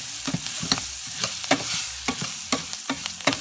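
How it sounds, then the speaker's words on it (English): Onion fries alongside browning rice for Mexican rice, a bright, loud sizzle close by, broken by rapid rhythmic scrapes of a spoon stirring the pan. "now that the rice is browning up, let's get that onion a little bit cooked up"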